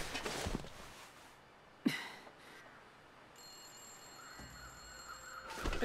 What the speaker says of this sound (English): I do hear a phone ringing.